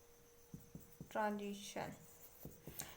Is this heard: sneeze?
no